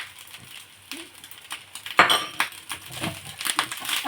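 A spoon clinking and scraping against a pan while fried rice is mixed with soy sauce, irregular metallic taps and scrapes close up, one sharper clank in the middle.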